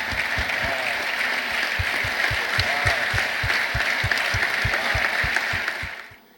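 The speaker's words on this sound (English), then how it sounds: "Round of applause, people." An audience at a WBC boxing convention applauds with steady, dense clapping that lasts several seconds and then fades out.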